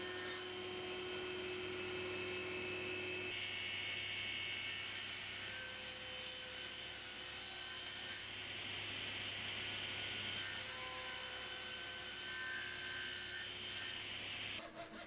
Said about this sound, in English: I've got this scrap of oak that I'm just going to take over to the table saw and shave down